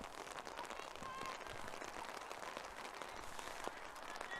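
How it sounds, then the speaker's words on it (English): Rain patters steadily on an umbrella outdoors at a playoff match, a dense, soft drumming of drops that continues throughout at low level, with faint distant sounds behind it. "it is still raining, as you can maybe hear through the noise or through the microphone coming from the rain hitting my umbrella"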